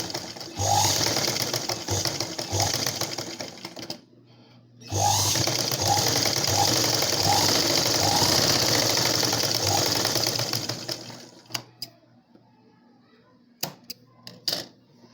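Sewing machine stitching a blouse hem, a steady rapid mechanical chatter running in two bursts separated by a short pause, then stopping with a few faint clicks and handling taps.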